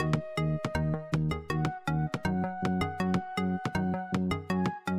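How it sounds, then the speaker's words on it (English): Catchy electronic soundtrack from a Roblox YouTube Simulator Z mini game, with a steady rhythmic melody of repeated synth notes over a bass pulse, playing loud and alone. "there's actually a soundtrack for this mini game that sounds like this."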